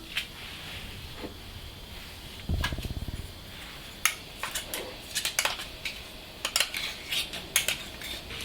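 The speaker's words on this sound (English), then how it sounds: "Give it a good stir" A spoon works through thickened milk cream in a pan, giving scattered metallic clinks and scrapes against the pan sides, with a brief low rumble early on and quiet gaps between strokes.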